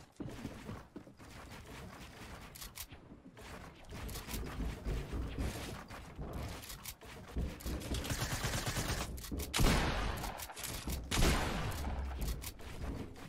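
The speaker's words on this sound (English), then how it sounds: "Nice pump shot." Pump shotgun blasts in the video game Fortnite, a burst of repeated loud gunshots and mechanical clacks over about thirteen seconds, with no talking.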